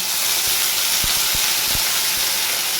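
Dissolved asafoetida (hing) poured into a hot pan sets off a loud, continuous sizzling hiss, close by, with a few faint knocks underneath.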